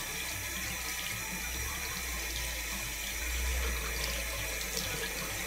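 Tap water runs steadily into a sink before hair washing, a continuous close, even rushing hiss with no talk over it.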